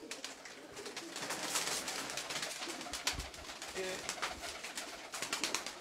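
Pigeons coo repeatedly from a loft, soft low calls mixed with wing flutters and rustling, some close and some farther off, with a voice talking at times.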